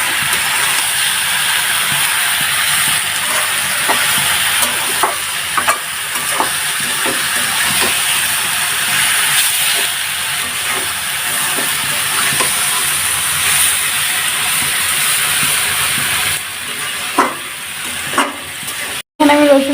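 Potatoes and Malabar spinach greens frying in oil, a continuous hissing sizzle with scattered clicks of a utensil turning them over, loud and close, ending in a brief clatter.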